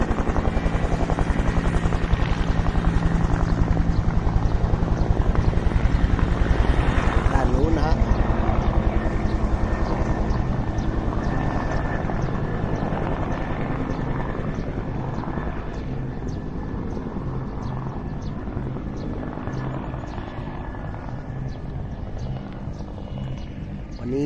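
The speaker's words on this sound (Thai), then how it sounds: "เครื่องบินของทหารนะครับกำลังซ้อมในการ อุ่นเครื่องนะครับ" Military aircraft warm up their engines in the early morning at a park in Surin, Thailand, producing a loud, steady, droning roar that fills the whole stretch and eases slightly toward the end.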